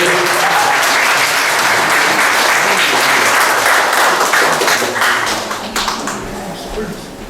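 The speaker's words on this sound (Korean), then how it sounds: "뜨거운 박수를 받았기 때문에" Warm applause from the audience at a founders' meeting in Jinju, greeting the newly chosen standing representative. A dense, loud wash of many hands clapping that runs steadily and then thins and fades toward the end.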